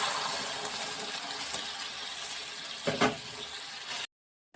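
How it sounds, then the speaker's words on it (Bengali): Hot water poured into hot oil in a pan while cooking shankar fish kalia in a village kitchen, a steady hissing sizzle with bubbling and a brief splash, then abrupt cutoff. "গরম জলটা দিয়ে দিলাম"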